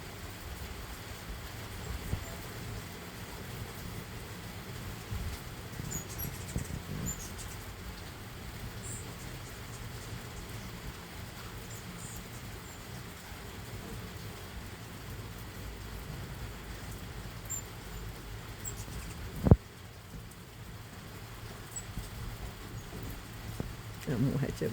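Steady rain falling outdoors at a rural home where hummingbirds feed, a constant hiss of drops on surfaces with one sharp knock near the end.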